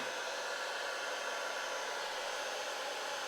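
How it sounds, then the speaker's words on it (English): A small baby hair dryer blowing steadily at close range to dry tile grout, a continuous broadband whoosh that holds level throughout with no other sounds. "I have a little baby hair dryer here for my son"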